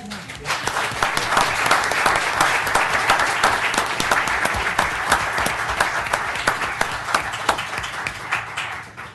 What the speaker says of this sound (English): Should we have a round of applause?